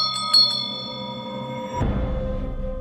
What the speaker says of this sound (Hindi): मंदिर की घंटी अपने आप बजने लगी